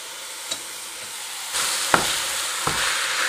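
Three pounds of ground turkey and pork sizzle as they brown in a frying pan, a steady broadband hiss that swells louder partway through, punctuated by a few sharp clicks of a utensil against the pan.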